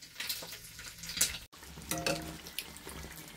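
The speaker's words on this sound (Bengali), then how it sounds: "আমি আরেকটা দিয়ে দিয়েছি কড়ার মধ্যে, কত সুন্দর ভাজা হচ্ছে" Snacks deep-frying in hot oil in a wok give a steady, close crackling sizzle with brief stirring scrapes, broken by a short gap midway, and no talking.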